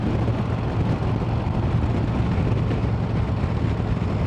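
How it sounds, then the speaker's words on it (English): Steady, loud wind buffeting roars continuously over a 2024 Indian Challenger motorcycle at riding speed, a dense rushing blast that never lets up, with engine rumble underneath. "A lot of wind buffeting right here."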